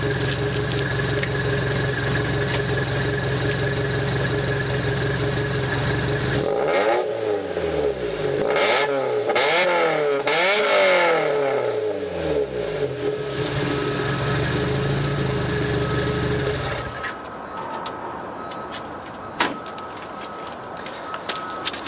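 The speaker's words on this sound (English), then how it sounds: "here we are going to do the exhaust rev" A 1986 Toyota Sprinter Trueno AE86 engine idles, then its exhaust revs up and down several times in quick bursts before settling back to a steady idle; loud and close, no speech.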